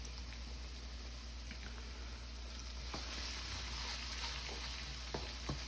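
Scallion whites sautéing at high heat in a wok for pork fried rice, a soft, steady sizzle with light scraping and tossing ticks as the pan is kept moving.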